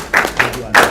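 A few distinct hand claps, three separate loud strikes at a panel session of a learning event in Ghana, close and uneven, with a brief murmur in between.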